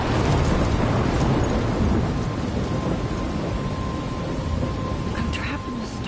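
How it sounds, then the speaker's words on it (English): Stormy weather in the video game Life is Strange: dense, steady rain hiss with low rumbling thunder throughout, loud and continuous, with no clear speech over it. "I'm trapped in a storm?"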